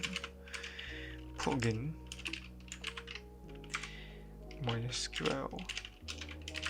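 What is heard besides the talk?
typing a command on a computer keyboard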